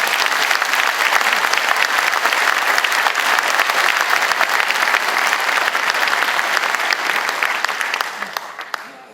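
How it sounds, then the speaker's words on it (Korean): An audience at a board chairman's inauguration ceremony gives dense, sustained applause that stays loud throughout, then tapers off in the final second. "우리 모두의 환영의 박수를 한번 보내주시면 대단히 고맙습니다"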